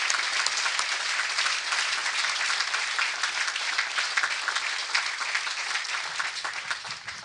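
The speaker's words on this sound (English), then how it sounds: "let's give them a round of applause." An audience at a military ceremony gives a round of applause for honored service units, a dense, loud, continuous roar of clapping that holds steady throughout and tapers slightly at the end.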